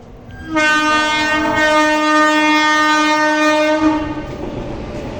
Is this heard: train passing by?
yes